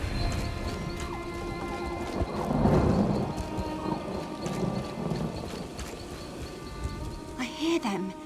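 Rain falls steadily through a forest in Elder Scrolls Online, and a low rumble of thunder swells midway. A voice talks over the downpour.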